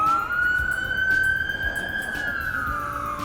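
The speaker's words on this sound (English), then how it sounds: "Let's let this ambulance go by." An ambulance siren passes by, its single long wailing tone rising, holding, then dipping as the vehicle moves along, loud over faint street noise.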